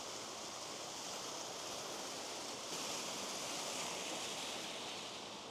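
A steady, dense rush of a waterfall in the Pyrenees near Andorra la Vella fills the whole stretch, constant and fairly loud with no voices.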